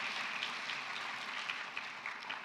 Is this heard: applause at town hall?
yes